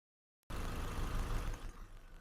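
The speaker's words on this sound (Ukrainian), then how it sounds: "мотор працює рівненько послухав" Volkswagen Caddy Life Maxi 1.6 MPI from 2009 idles steadily after a brief silence, a low, even engine drone with no surrounding sound.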